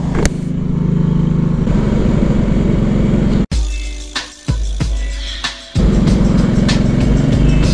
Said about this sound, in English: That's the new 790 Duke.